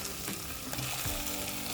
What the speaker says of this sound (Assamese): আমি গোটেইখিনি কেৰাহীতে ফ্ৰাই কৰিম মটনটো দিম